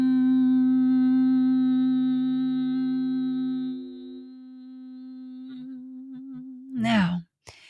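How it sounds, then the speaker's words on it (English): A person hums a long, steady single tone at close range during a pelvic floor breathing exercise, holding it for several seconds before it fades, followed by a brief breathy sound. "And I want you to hum."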